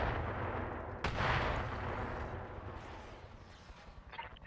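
Mech weapons firing in the video game RogueTech: a sharp blast opens a dense, rumbling barrage of gunfire and artillery-like booms that sustains for several seconds, then gradually trails off, with brief crackles near the end.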